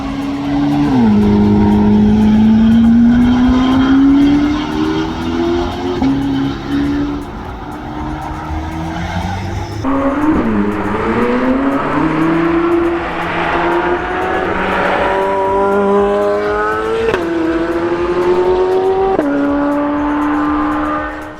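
A Corvette C8 ZR1 with a 7.0L twin-turbo V8 roars at full throttle, its deep engine note climbing through repeated upshifts, drops, then builds again, loud and close with no speech.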